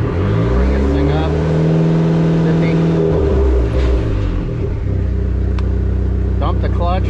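A car engine running with its transmission in 4th gear on a stand, wheels up in the air, loud and steady with drive noise rising and falling, while someone talks over it.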